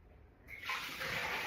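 Used water from a countertop reverse osmosis filter's water container is poured out, starting quietly and then rising into a steady rushing splash that continues to the end.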